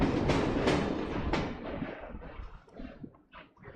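Train in the video game Assassin's Creed Syndicate, a loud rumbling clatter with rhythmic heavy knocks that fades and thins out over about four seconds, no voices.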